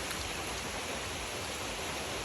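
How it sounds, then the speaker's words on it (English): Heavy rain pouring down, heard from inside a trail shelter on a backpacking loop in Virginia: a dense, steady hiss of drops on the roof, continuous and fairly faint, with no talk. "it is pouring down rain"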